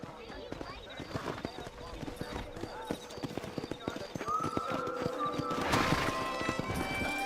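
Horse hooves clatter at a gallop across open ground in the Red Dead Redemption video game, a quick irregular clip-clop close by, joined by a whinny and a rising rush of motion, with a voice urging the horse on.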